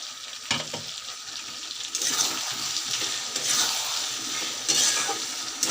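Ground spice paste fries in oil for a Bengali fish-head muri ghonto, sizzling steadily up close with repeated scraping strokes of a spatula in the pan.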